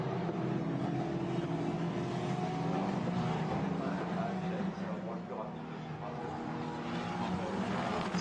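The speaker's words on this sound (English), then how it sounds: "as Vidales powers his way now through the Imola chicane" Formula Renault Eurocup race cars at Magny-Cours make a continuous high-revving engine roar that blends several cars at close range, with a commentator talking over it.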